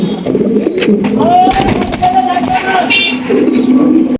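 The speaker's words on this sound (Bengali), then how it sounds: "চমৎকার একজোড়া টপ কোয়ালিটির আফসান বিউটি কবুতর" A pair of large Afsan Beauty pigeons coo up close in soft, wavering calls, with other birds and a busy background murmur around them.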